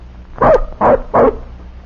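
A puppy gives three quick, high yapping barks in a row, close and fairly loud, with short pauses between them, in an old radio drama.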